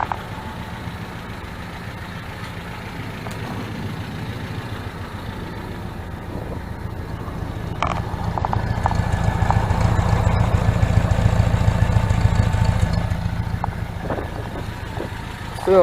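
A 1977 MGB engine idles outdoors in a driveway with a low, quiet, steady rumble that swells somewhat louder midway before settling back.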